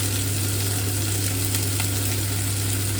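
Two small chopped brown onions frying in the same pan the beef was cooked in, giving a steady, close sizzle that holds evenly throughout with no talking.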